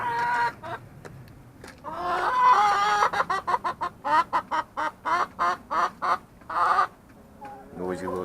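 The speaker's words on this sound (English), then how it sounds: "Noisy little chicken." Chicken in a backyard coop clucking close and loud, first in a burst, then in a rhythmic series of about a dozen evenly spaced clucks, ending in a drawn-out call.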